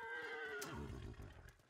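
A horse whinnies and snorts in the video game Ghost of Tsushima, a single clear neigh that tails off quietly, with no talking.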